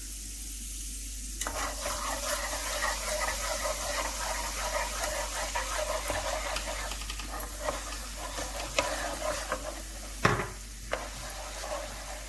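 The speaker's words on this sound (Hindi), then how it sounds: "लहसुन को हमने गोल्डन फ्राई करना है" Steady crackling sizzle of garlic frying golden in hot oil for honey chilli chicken, with occasional clinks and stirring scrapes from a utensil close by.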